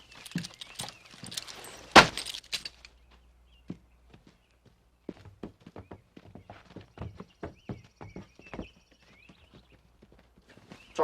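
Horse hooves clip-clop in an uneven walking rhythm, fairly close, with a louder thump and some jangling early on and the steps continuing alone over quiet background.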